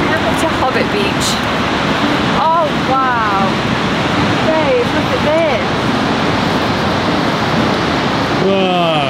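Ocean surf at Hobbit Beach on the Oregon Coast rushes as a constant, loud wash of breaking waves, with people talking over it at intervals.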